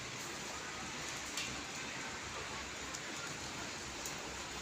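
Heavy rain pours on roof sheets with water leaking through, making a dense, unbroken hiss that stays steady throughout, with no talk over it.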